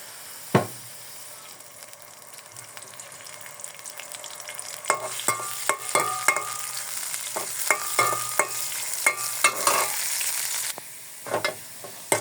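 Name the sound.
frying chopped onion and garlic in oil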